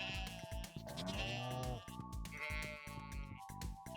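Several sheep in a farming video game bleat in quick overlapping calls, wavering cries repeating over a soft rhythmic background of game music.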